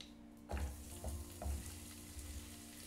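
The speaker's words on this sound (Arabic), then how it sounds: "نشحر شويه البصله، نخلي البصله تتحمر" Onion sautéing in olive oil for a Moroccan chicken tagine, a quiet sizzle broken by three soft stirring pushes, close and faint with no speech.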